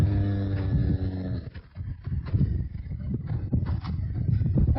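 A horse moving with hooves clip-clopping, uneven thuds and scuffs over a loud low hum that thins after the first second and a half, with no talk.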